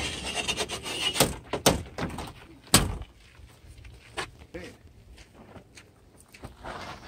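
A door swung shut during the disassembly of a piece of furniture, giving a sharp wooden knock partway through, surrounded by softer thuds, rubbing and handling noises with no talking.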